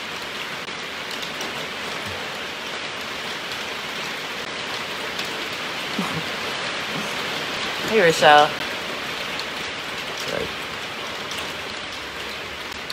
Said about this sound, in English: The rain will be gone probably not too loud, not too long.